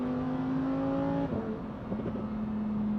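A sports car engine set to Corsa mode drops through the gears, its steady, loud droning note breaking and shifting pitch about halfway through before settling into a lower, even hum, heard close with no talking.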